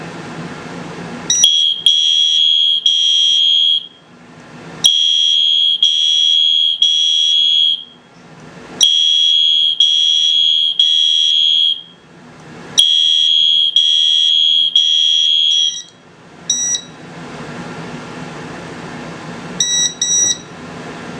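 A fire alarm system sounds a code 3 pattern: loud electronic alarm tones in repeated groups of three separated by short pauses, with a drawn-out fading tail at the end and no talking.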